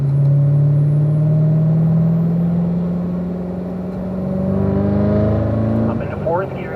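A race car on a track at Spring Mountain drones steadily from the cockpit, its engine pitch climbing, then dropping as it shifts up a gear along the front straight, with a voice talking over it.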